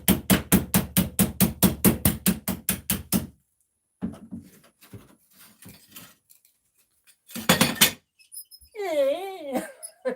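A chisel is hammered against a door hinge in a bathroom renovation, with a fast run of sharp, loud, evenly spaced metallic strikes, then a pause, scattered knocks, a short second burst of blows and people talking.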